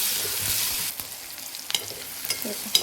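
Sprouted moong and onion frying in hot oil for a Maharashtrian usal, a steady sizzle with a few sharp crackles and scraping stir sounds, close and alone.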